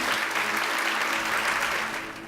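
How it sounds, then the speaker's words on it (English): An audience applauds, a dense patter of many hands clapping together, steady at first and then fading away after about two seconds. "We got a huge applause."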